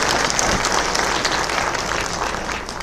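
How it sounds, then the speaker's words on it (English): Audience at a League of Women Voters recall forum in Oxnard gives a sustained round of applause, dense steady clapping throughout without speech. "let's give them applause"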